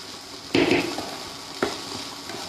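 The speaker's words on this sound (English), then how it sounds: "So we are just frying off the water" Momo filling frying in a pan to cook off its extra water, with a burst of sizzling at a stir and a second short sizzle, then a low steady fry in a quiet kitchen.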